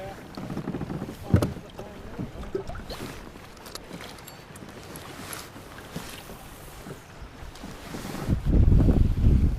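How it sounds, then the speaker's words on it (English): Wind gusts buffet the microphone while kayaking on Lake Norman during a kayak fishing tournament, a steady rushing roar with a sharp thump early on and a heavy low blast swelling near the end, water lapping faintly underneath. "it's too windy"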